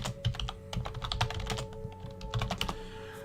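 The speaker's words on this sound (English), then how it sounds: "Just typing something real quick in my notes." Fast typing on a computer keyboard, close and clear, with irregular clusters of key clicks over a low steady hum. There is no talk.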